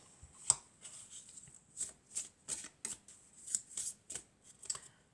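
Oracle cards are shuffled, drawn and handled close by in a series of quiet, crisp riffles, flicks and papery snaps that come in irregular bursts with brief pauses between them.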